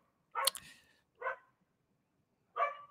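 A dog outside gives three separate sharp barks, spaced apart and moderately faint, with silence between them and no speech.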